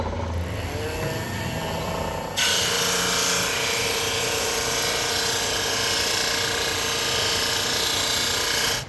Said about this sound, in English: I'm going to run it through the drum sander